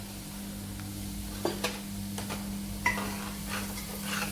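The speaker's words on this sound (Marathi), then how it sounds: "गॅसची फ्लेम वाढवते आणि चांगल्या कडक गरम तेलामध्ये ते रवा आपल्याला टाकायचा आहे." Raw semolina roasts in very hot oil in a pan, giving a soft steady sizzle broken by a few quiet scraping and stirring taps, close and fairly faint, with no talking.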